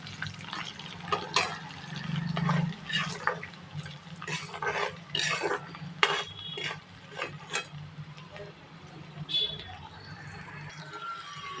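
Green chillies and garlic fry in a pan with salt and turmeric for a spiced flattened-rice dish, a continuous close sizzle with crackles and spatula stirring scrapes over a low steady hum.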